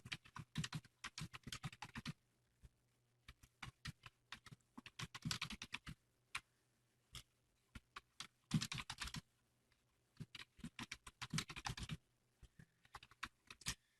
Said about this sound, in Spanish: Voy a teclear un poco de código y voy a hacer como que ejecutamos el programa.